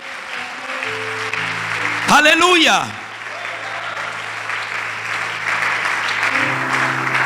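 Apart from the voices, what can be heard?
congregation applause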